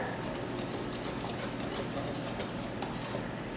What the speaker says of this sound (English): We're just going to mix this together.